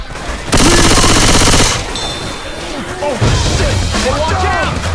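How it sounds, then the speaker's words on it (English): Gunfire from zombie shooting in Left 4 Dead 2 on The Parish: a loud, dense burst of rapid automatic shots, then a short pause, then scattered game sounds and a second, heavier burst, with voices calling out. "Shoot that zombie in the back."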